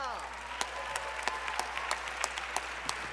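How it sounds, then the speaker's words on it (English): An audience at a conference panel gives steady applause, a dense patter of many hands with a few sharper individual claps, while a voice talks over it. "Let's give T.I. a big round of applause."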